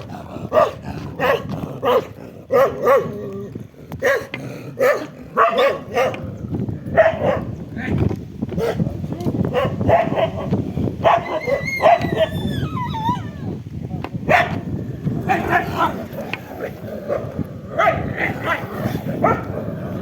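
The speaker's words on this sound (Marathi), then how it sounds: "किती मजबूत कुत्रा आहे पण उपयोग काहीच नाही." A big, strong dog on a Narmada pilgrimage route barks repeatedly in short bursts with some growling, close and loud, while people talk over and between the barks.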